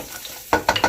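Garlic hitting a hot pan with lightly scrambled egg pieces for vegetarian fried rice; after a quiet start, a burst of sizzling and stirring scrapes comes close and fairly loud, in a few surges.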